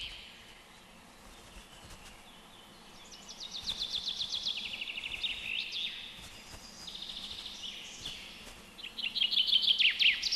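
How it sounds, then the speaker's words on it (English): Two male chaffinches sing in alternation overhead in woodland, bright descending trilled phrases ending in flourishes, over a quiet outdoor background with faint insects. "Directly above me I can hear the singing duel of the chaffinch males."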